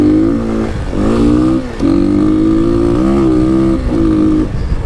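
Kawasaki KLX300 dirt bike ridden through open desert, its engine close and loud, revving up and down through repeated gear changes with a buzzy, rising and falling tone and brief dips between shifts.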